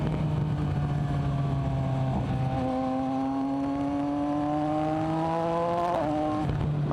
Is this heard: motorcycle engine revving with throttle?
yes